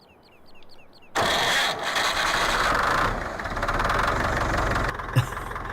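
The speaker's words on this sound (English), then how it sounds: "that starter sounds like it's been used a few times" An old Ursus 914 Turbo tractor in Farming Simulator 15 cranks on its worn starter and fires up, a loud steady engine roar that runs on after a few quiet clicks, with one sharp knock near the end.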